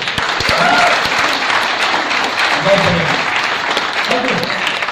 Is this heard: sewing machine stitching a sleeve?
no